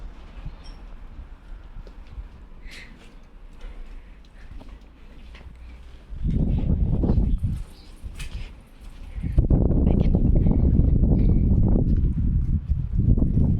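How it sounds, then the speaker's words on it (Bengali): A strong, storm-like wind gusts through trees outdoors, with a low roar that rises to loud buffeting surges in the second half of the clip. "ঝড়ের মতো বাতাস গাছগুলো দেখতেছে লড়তেছে গাছের পাতা প্রচুর বাতাস"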